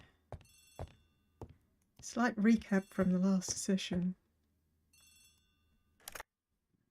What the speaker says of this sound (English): looks like we have to go back and answer the phone again